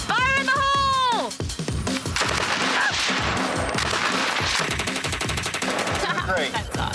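A light, fast-firing gun lets off long rapid bursts of loud, close, evenly spaced shots after a brief shouted voice at the start.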